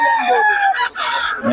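Chickens, sounding like a rooster's crowing calls, ring out loud and close in two drawn-out bursts at a gathering where birds are being shown for sale.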